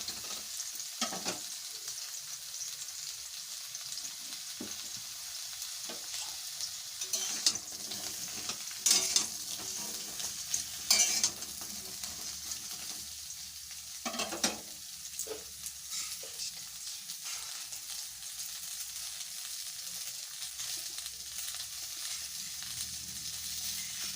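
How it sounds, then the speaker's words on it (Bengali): Pointed gourd (potol), 500 grams without potatoes, frying in a pan for a Bengali mustard recipe, giving a steady close hiss of sizzling oil with occasional scraping stirs of a spatula throughout. "পটলটা আমার ভাজা হয়ে এসেছে।"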